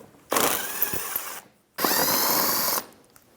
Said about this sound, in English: With a 10mm socket, you have a few bolts here.